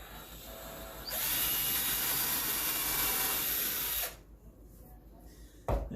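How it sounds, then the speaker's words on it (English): A power drill bores into a wooden sign to make a pilot hole for a cup hook, a steady high whine for about three seconds that then stops, followed by a brief handling clunk. "I'm going to drill in here just slightly less than that."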